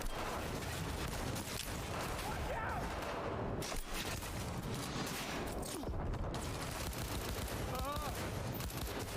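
Dense video-game gunfire, rapid automatic bursts and sniper rifle shots with grenade blasts, fills the whole stretch in continuous loud volleys, with a voice talking faintly underneath.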